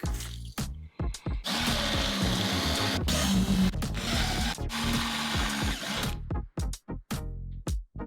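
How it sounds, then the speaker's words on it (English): Power drill boring holes into a wooden work table, a sustained whirring drive with a few short bursts before and after, close and fairly loud with no talk. "Now it's time I'll drill the holes out."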